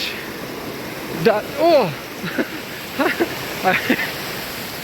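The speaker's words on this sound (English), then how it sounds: "And then the waterfalls start here." Steady rushing water of waterfalls along a forest hiking trail near a bridge and river, a continuous broadband roar running under the whole stretch while a person exclaims and talks over it.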